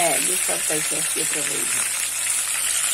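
Breaded shrimp frying in hot oil, a steady bright sizzle running throughout, with a person talking close by over it.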